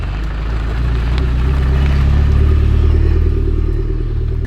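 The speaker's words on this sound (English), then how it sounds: "So as you're starting it up, the car's already moving because you're not pushing on the clutch." A widebody Scion FR-S, recently wrecked, is started while left in gear with the clutch released, so it lurches forward on startup; a close, steady engine rumble with rattling and no voices.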